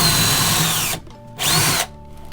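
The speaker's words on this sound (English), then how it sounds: "So let's do some drilling." A power drill bores into a stud wall while a small IKEA LACK floating shelf is being put up, two loud whirring bursts with a short pause between them, close up and with no talking.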